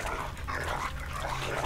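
Dog in a Game of Thrones video game growling and snarling as it attacks, a short, rough, continuous burst heard up close with no speech over it.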